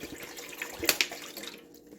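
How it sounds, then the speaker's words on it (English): Water from bottles pouring into a cooking pot for chicken and dumplings, a soft running splash with a couple of brighter sloshes near the middle, close and fairly quiet, with no talking. "I'm going to get my water into my pot here"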